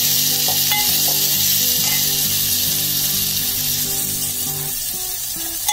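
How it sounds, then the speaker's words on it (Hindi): Onion sizzles and fries in a little oil in a pan for patodi gravy, with a steady close hiss and occasional stirring scrapes throughout. "इसमें से आधा प्याज ग्रेवी के लिए रखते हैं, एक प्याज इसमें डाल दिया है।"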